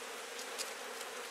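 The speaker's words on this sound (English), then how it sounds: "You get bees coming in smelling the crushed hive." Bees buzzing around an open-air hive with crushed comb, a steady close insect drone with faint passing whines, no voices.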